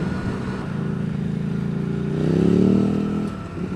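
Red Ducati motorcycle riding past on a road, its engine note swelling louder as it nears and then fading, heard over steady wind and traffic rumble.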